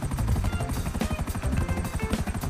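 A helicopter in GTA 5 flies with a steady, close rotor chop, and the pulsing beat repeats rapidly and evenly throughout.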